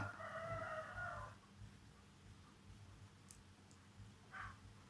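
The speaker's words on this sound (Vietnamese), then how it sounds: "con gà" A rooster crows once, loud and near, over a low farmyard hum, followed by quieter background noise and a brief faint cluck or call near the end.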